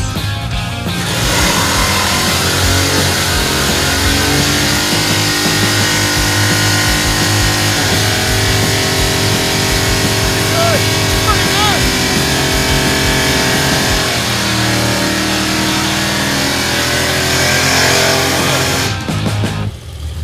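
A big block Chevrolet Impala engine fires up and runs loud and close, its rough idle rising and falling through several revs before cutting off at the end.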